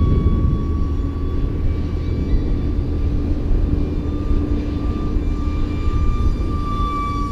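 A small E-flite UMX Habu S 180 electric ducted-fan RC jet runs at full throttle outdoors in strong wind, giving a steady, loud whine with a high sustained tone over heavy low wind rumble, with no pauses.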